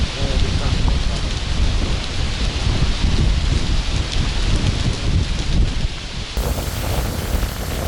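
Heavy rain pounds down in a storm with thunder rolling through, a loud, dense, continuous roar with wind buffeting the microphone throughout.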